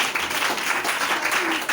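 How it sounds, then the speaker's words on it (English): Audience clapping at a talk on relationships before marriage, a brief burst of scattered applause from a crowd heard alone at moderate level. "Can you clap for me?"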